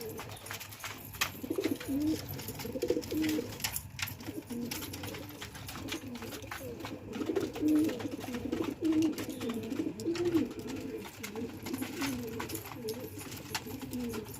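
Soft, repeated cooing of several pigeons, low throaty calls overlapping continuously, fairly close with faint background noise.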